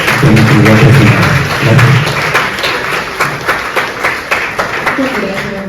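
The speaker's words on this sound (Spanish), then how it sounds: "les pido por favor, les den un fuerte aplauso para participar con la actividad presentada." Seminar audience clapping in a room, a loud burst of applause that fades into sparser, individual claps over about five seconds, with some background voices.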